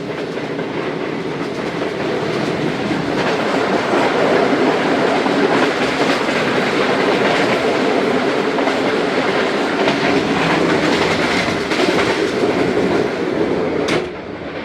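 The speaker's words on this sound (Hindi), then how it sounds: "बड़ा ही ज़बरदस्त स्पीड से पास हुई है ट्रेन।" The Karakoram Express train rushes past Abdul Hakim railway station in Pakistan at speed, its loud steady rumble and rhythmic wheel clatter filling the air before easing off at the very end.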